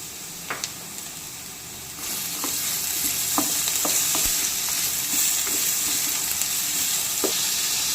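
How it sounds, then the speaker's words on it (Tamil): Beetroot stirred with onions in hot oil, starting with scattered clinks of the spoon against the pan, then a louder, steady sizzle with occasional stirring scrapes, close up and without speech. "இப்போ வெங்காயம் நல்லா வதங்கினதும் இது கூட எடுத்து வச்சிருக்கிற பீட்ரூட் ஆட் பண்ணி நல்லா கிளறி விட்டுக்கலாம்"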